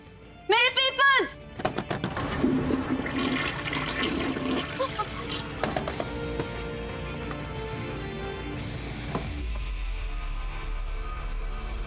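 A toilet flushes with a rushing, gurgling swirl of water that fades into a low refill hiss, following some brief clatter and movement, in a TV drama scene.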